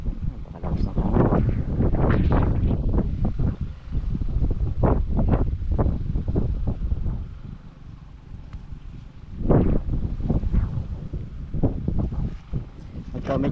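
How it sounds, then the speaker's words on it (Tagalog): Strong gusts buffet the microphone as a hard wind blows outdoors, a dense rumbling roar that swells and surges in waves, loud and close throughout. "Napakalakas ng hangin."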